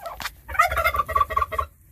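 Turkeys on an Oklahoma farm let out a single close, rapid gobble, a loud warbling burst of quick pulses lasting about a second, with no voices.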